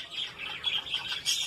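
Budgerigars, a parent pair with six chicks, chirp close up in quick, high, overlapping tweets and scratchy calls, continuous and fairly loud, with a soft flutter of activity.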